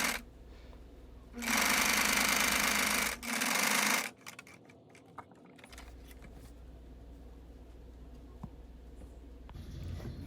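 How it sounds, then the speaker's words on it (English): A sewing machine stitches a straight top seam on the slip pocket of a cat-shaped purse, running in two loud, steady bursts of rapid stitching with a short pause between them, followed by quieter handling sounds. "I'm going to stitch along that top straight line."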